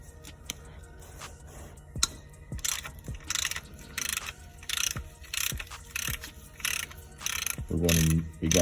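A ratchet loosens the oil pan bracket bolts on a 2009 Dodge Avenger 2.7L, giving repeated bursts of rapid close clicking with short pauses between pulls.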